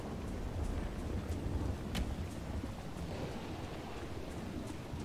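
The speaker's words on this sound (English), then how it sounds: "That lightning is really vicious and just loves coming down close to us" Steady rain pours throughout a Dragon Age Inquisition storm scene, with several sharp close thunder cracks and rumbles breaking through, one especially loud strike near two seconds.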